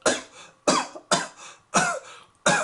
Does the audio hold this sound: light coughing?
yes